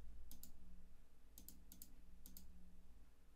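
Several light, crisp clicks of a computer mouse come in quick pairs and small clusters over a quiet background, close and distinct.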